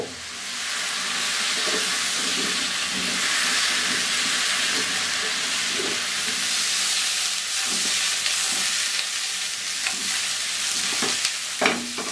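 Medium-sized cauliflower pieces with potato fry in oil in a pan for a cauliflower and egg curry, a loud, dense, steady sizzle with scattered stirring knocks, close and uninterrupted.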